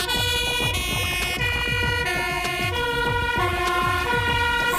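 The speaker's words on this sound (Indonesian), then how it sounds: "Wow, pemadam kebakaran lagi teman-teman." A fire engine siren wails continuously and loudly, cycling its rising and falling tone with strong harmonics over steady vehicle noise, with no talking.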